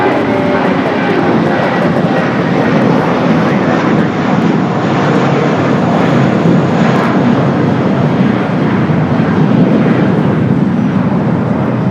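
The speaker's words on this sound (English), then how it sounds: "We do have a United Dreamliner coming from Newark, flight 2692" United Boeing 787 Dreamliner arriving at LAX from Newark, landing on runway 25 left, its jet engines giving a loud, continuous roar that stays near and steady throughout, with no voices.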